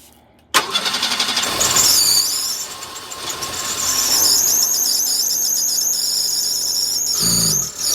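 A 1990 Ford Escort engine cranks and catches, then runs at a rough, steady idle with a high whining squeal from the belts. The engine is close and loud, and it sputters briefly near the end.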